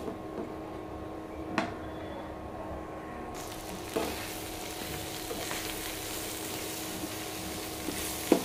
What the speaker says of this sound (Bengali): শুটকিটাও ভেজে নিলাম